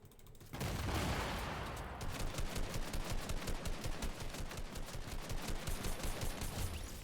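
Sustained automatic gunfire in Fortnite as a player sprays down an enemy, a dense rapid stream of loud, close shots running almost continuously after a brief opening burst.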